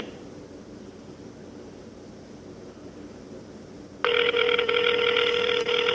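A telephone starts ringing partway through and keeps going unanswered, a loud, steady electronic trill over a low background hiss.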